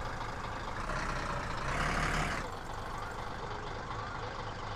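A truck being parked in the video game My Summer Car gives a steady engine rumble that swells briefly, then settles back to an even idle.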